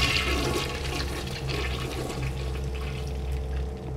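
A toilet flushes in the video game Bioshock, a steady rushing gurgle of water swirling and draining for several seconds, with a low hum beneath it.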